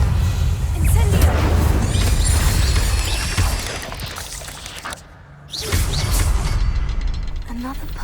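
An Incendio fire spell cast in a video game, heard as a loud, sustained roaring whoosh with deep booming rumble and crackling bursts that cuts out briefly midway, then surges back at full strength.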